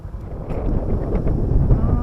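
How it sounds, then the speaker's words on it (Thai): Wind blowing outdoors along a canal beside an airport, a steady loud low rumble buffeting the microphone throughout with faint clicks on top. "ลมมาครับ"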